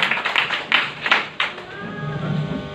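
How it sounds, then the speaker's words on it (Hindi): Audience at a corporate recognition and celebration event breaking into scattered, uneven claps, a few sharp close hand slaps at first, then thinning out as a voice begins speaking. "मैं चाहता हूँ कि जोरदार तालियां हों"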